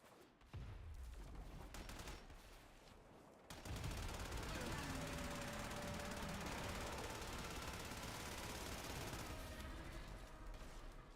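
Rapid, sustained automatic gunfire in the Warframe video game, a loud continuous dense barrage that briefly dips then surges and carries on for several seconds.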